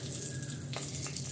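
Bay leaf and cardamom crackle in about a cup of hot oil in a pan. A brief, soft, steady sizzle plays with a couple of faint pops and no speech.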